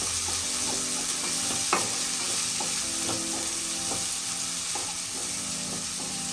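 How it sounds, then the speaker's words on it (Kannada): Onions frying in hot oil in a pan, a constant close sizzle with occasional light scrapes and taps of a stirring spoon, no voices. "ಈರುಳ್ಳಿ ಚೆನ್ನಾಗಿ ಫ್ರೈ ಮಾಡ್ಕೋಬೇಕು."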